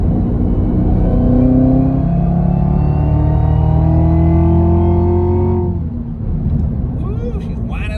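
A car with a ported Soler Performance throttle body climbs a mountain road, its loud engine whine rising steadily in pitch over a deep rumble for several seconds, then easing off.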